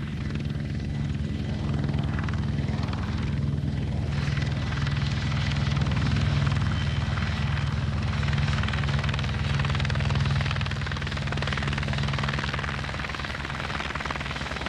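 Merseyside Police helicopter landing on grass, its rotor beating steadily with a loud, continuous turbine drone that holds close and unbroken throughout.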